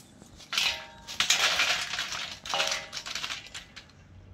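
Crisp fried raw banana chips, cooked in ordinary oil, snap and crackle in two brittle bursts of clinking crunches, fairly close and with no voices over them.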